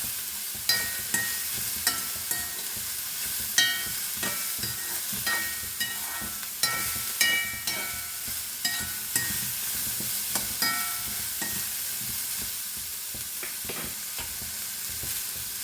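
Ridge gourd frying in coconut oil gives off a constant soft sizzle, broken by repeated light scrapes and clacks of a spoon stirring the pan nearby.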